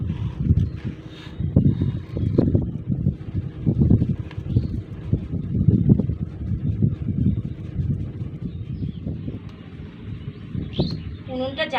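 Strong gusting wind buffets the microphone in low, uneven bursts outdoors beside a clay cooking stove where pulao is being made, the roar rising and falling throughout.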